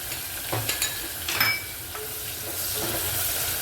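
Onion drops into hot oil already holding garlic, chillies and curry leaves for masala khichdi, giving a close crackling sizzle with a few stirring scrapes and clatters early, then a steady fry.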